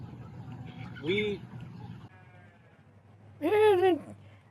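Sheep bleat twice, a short call and then a longer, louder wavering bleat, close by on a farm where sheep and goats are kept, with low rumbling background noise between the calls.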